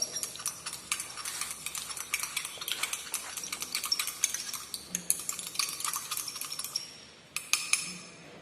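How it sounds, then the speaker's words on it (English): A glass rod or spatula stirs glycerin into a piperazine citrate elixir in a pharmacy lab, giving rapid, steady clinks and scrapes against the container, close and continuous, with a few louder taps near the end. "After adding the glycerin, then continue this stirring process."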